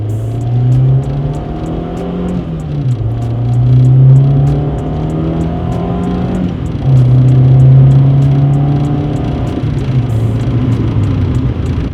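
Car with an aftermarket exhaust accelerating hard in a quick pull, a loud, close droning engine note that climbs steadily, dips briefly at each gear change, then climbs again.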